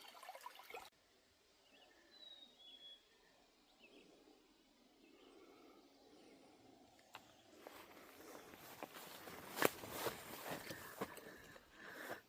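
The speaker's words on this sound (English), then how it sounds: "This is the second water crossing of day 2 of the Superior Trail" Stream water runs at a crossing on the Superior Hiking Trail, a soft trickle that swells into louder, rushing splashes in the second half, heard close and alone.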